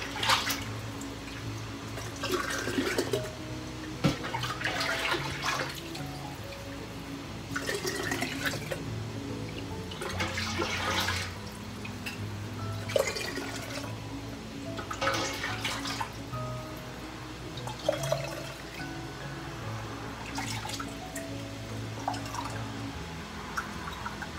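Water runs into a pressure canner being filled for canning chicken stock, splashing and gurgling in uneven bursts with drips and clanks between pours, close and moderately loud.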